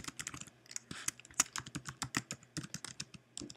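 Rapid clicking keystrokes on a computer keyboard as an email address is entered, a steady run of close, crisp taps with brief pauses, with no voices.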